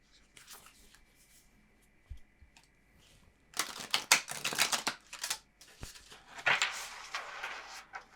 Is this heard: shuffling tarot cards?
yes